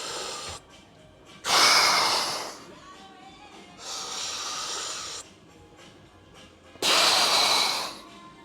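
Heavy breaths from someone doing abdominal crunches on a machine: three loud, close, hissing exhalations about a second long each, separated by quieter gaps.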